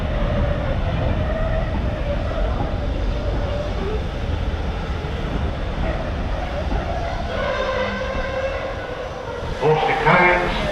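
A heritage railway train approaching Horsted Keynes station on the Bluebell Railway, with a steady loud rumble of rolling carriages, a voice talking over it, and brighter squealing and clanking near the end.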